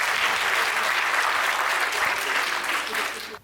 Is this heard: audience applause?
yes